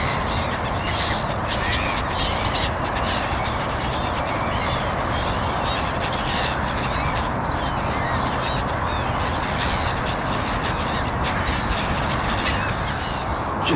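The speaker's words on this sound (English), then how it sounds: "Canada goose going through the middle of them" A Canada goose calls amid a large flock of birds taking to the air on a morning outing, a dense, loud, continuous chorus of honks, caws and quacks.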